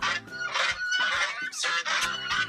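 Several loud, nasal goose honks come in quick bursts, close by, with brief gaps between calls.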